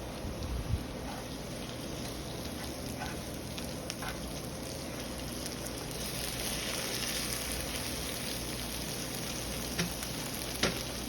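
Lamb fries in a skillet with a continuous crackling sizzle, and a few louder pops stand out from the steady spatter.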